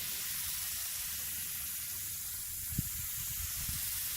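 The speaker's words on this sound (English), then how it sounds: "Now I'm just going to mist it on there." Spray gun misting coating onto a car headlight with a soft, continuous airy hiss, quiet and steady, with a couple of faint brief knocks.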